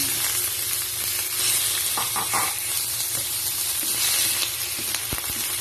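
Chicken sizzling loudly as it is added to light-browned onions in a pan for chop suey, a dense continuous hiss with a few stirring clatters, close up and without talk.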